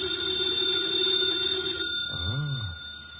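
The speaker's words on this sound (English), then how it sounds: "Should never ignore a phone call." An old-fashioned telephone bell rings in a radio drama, a sustained metallic trill that breaks off abruptly, followed by a short low tonal swell.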